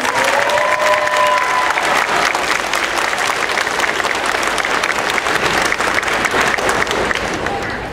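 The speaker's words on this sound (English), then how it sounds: "So give them another round of applause" A school audience at a 6th grade spring event claps for student class leaders, a sustained, even round of applause with faint crowd murmur beneath it.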